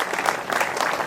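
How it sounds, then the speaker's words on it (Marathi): Audience applause at a stage event, a dense steady patter of many hands clapping together at moderate loudness, brief and continuous. "त्यांच्यासाठी जोरदार टाळ्या."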